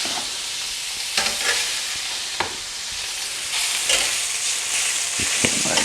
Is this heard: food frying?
yes